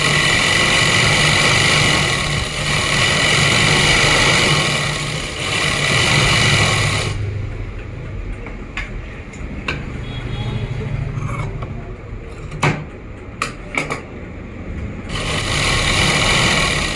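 A sewing machine runs in loud, steady bursts while stitching a double seam on Afghani pants, with two long runs separated by a quieter stretch of clicks and handling noises.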